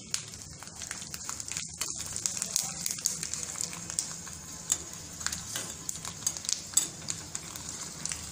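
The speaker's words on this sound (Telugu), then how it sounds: "కరివేపాకు, వెల్లుల్లిపాయలు చిన్నగా కట్ చేసుకొని వేసుకోవాలి." Curry leaves and chopped garlic fry in hot oil in a pan for a Telugu amaranth dal, a soft steady sizzle with scattered crackles and pops, faint and close, with no voices.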